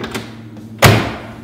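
The door of a 1969 Chevrolet Chevelle SS396 convertible, parked on a lift, shuts with a single solid close thunk after a faint latch click, then a short decaying ring.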